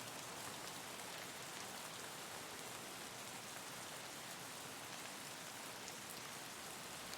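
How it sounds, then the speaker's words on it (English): Steady rain falling in the shooter video game Escape from Tarkov, a constant even hiss of drops on surfaces that fills the whole stretch without a break, with no voices. "Rain will actually help us"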